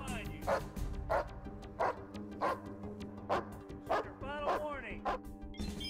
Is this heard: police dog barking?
yes